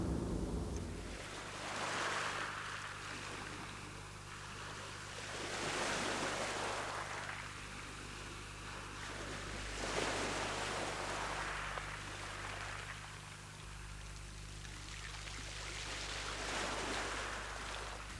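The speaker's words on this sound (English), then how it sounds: "Waves roll in endlessly across the 2 miles of sea which separate the Farnes and Bamborough." Sea waves roll in across the two-mile stretch of water between the Farne Islands and Bamburgh, Northumberland, with broad surging swells breaking every few seconds over a steady low rumble and some wind.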